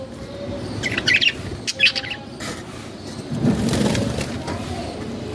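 Small birds chirp in short high bursts, with rustling and crunching of a large cage being opened and handled close by.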